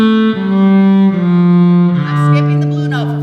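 Strings play a slow descending scale from a high D, several sustained notes stepping down one after another, bowed and steady, loud and close with no talk over them.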